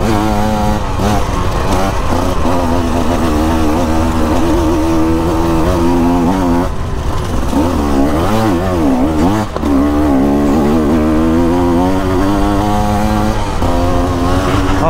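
A 2024 KTM dirt bike engine revs and shifts pitch while riding, loud and close throughout, rising and falling with throttle and gear changes and never dropping away.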